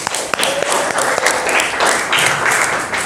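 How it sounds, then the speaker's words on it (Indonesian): A classroom of students claps together in a broad, steady burst of applause lasting a few seconds, fairly close and loud, with a few sharper individual claps standing out. "Tepuk tangan buat kita semua."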